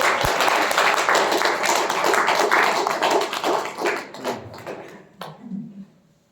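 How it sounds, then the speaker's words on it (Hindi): Dense applause from a seminar audience at a Hindi lecture on diet, loud and continuous for about four seconds before thinning out and fading. "जोरदार तालियां अपने लिए बजाइए"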